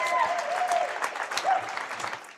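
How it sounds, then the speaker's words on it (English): Audience applause for young Titan cheerleaders at a girls varsity basketball game in a school gym, a short burst of dense clapping with a few cheers, moderately loud and tapering off. "Let's give one more applause for these little Titan cheerleaders."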